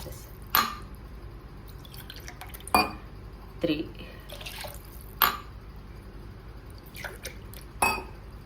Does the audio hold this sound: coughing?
no